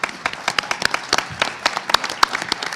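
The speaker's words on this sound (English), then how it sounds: "Maybe we can give them one last round of applause" An audience at a global business summit claps for a panel, a dense burst of many hands with sharp individual claps standing out, fairly close and loud throughout.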